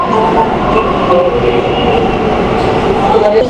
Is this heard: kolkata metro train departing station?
yes